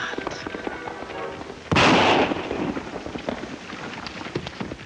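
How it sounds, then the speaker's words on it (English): A single loud rifle shot cracks out near a road in an old Western cartoon, a sharp burst with a short rumbling tail that rises over a quiet outdoor background. "Rifle shot come from road, maybe."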